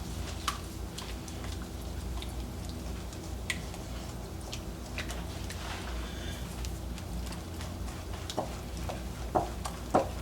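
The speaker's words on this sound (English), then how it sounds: "Then we're going to mix well." Cashew pie filling being mixed by hand with salt, cinnamon and nutmeg, quiet wet stirring with soft scrapes and occasional light clicks of a utensil against the bowl, close but faint and continuous.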